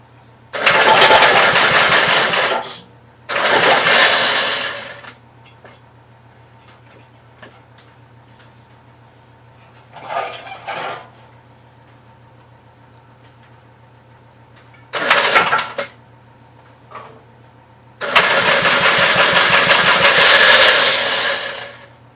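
A 1958 Gravely engine is cranked with the choke full on: several loud, rough bursts of cranking and sputtering, each a few seconds long, separated by quiet pauses with faint clicks, the last burst running longer.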